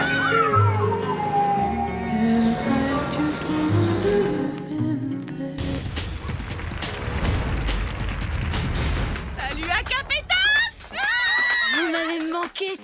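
Cats meow and yowl repeatedly, mixed with music and busy background sound, the cries rising and falling near the end.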